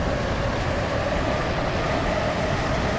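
A Stepford Connect train rolls along in a video game, a steady loud rumble of wheels and motor with a faint tonal whine and no breaks.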